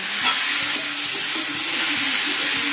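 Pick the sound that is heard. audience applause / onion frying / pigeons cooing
onion frying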